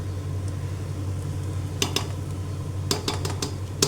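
Chilies for beef vindaloo being sautéed in a pan, with a steady low sizzle and bursts of sharp metal clinks from stirring near the end.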